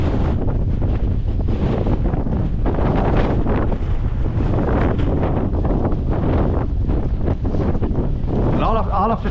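Strong gusting wind roars steadily and loudly close to the microphone, buffeting it without a break while trees toss about outdoors near a muddy, swampy beck.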